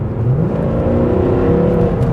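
A Mercedes C63 AMG accelerates hard on a wet road, its engine note rising in pitch through a loud, close, continuous surge.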